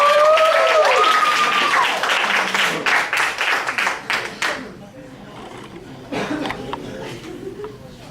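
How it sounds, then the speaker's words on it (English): A theater audience at a stage hypnosis show claps in a dense burst that thins into scattered claps. People talk over the clapping. "Give your stars another round of applause."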